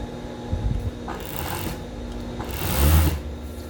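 Sewing machine attaching elastic to a cropped top, a close, steady mechanical whir with a couple of short louder surges.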